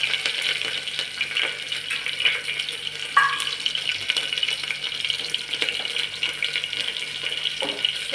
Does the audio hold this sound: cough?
no